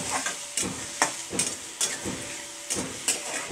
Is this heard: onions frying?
yes